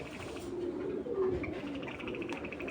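A Dobaz pigeon and other pigeons give soft, low cooing calls, faint and close, a few rolling coos over a quiet background with no speech.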